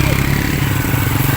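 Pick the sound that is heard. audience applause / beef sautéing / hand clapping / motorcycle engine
motorcycle engine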